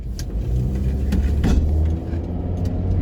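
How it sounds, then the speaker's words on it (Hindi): A car eases out of a tight, tricky spot with utensils and a guitar loaded in the back, its engine a close, steady low rumble with slight revving swells. "निकाल ली किसी तरीके से गाड़ी"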